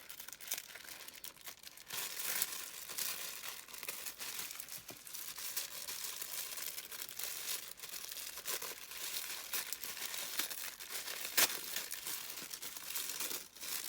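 Soft advent calendar package wrapped in bubble wrap being handled and unwrapped, with steady close crinkling and crumpling of plastic and occasional tearing, continuous and fairly loud throughout.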